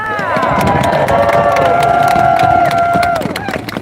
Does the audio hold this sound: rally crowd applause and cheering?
yes